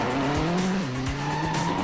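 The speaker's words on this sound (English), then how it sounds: "An independent hydraulic system locks the car's rear wheels" A rally car spins as an independent hydraulic handbrake locks its rear wheels, giving loud sustained tire squeal and skidding over a revving engine, close and continuous.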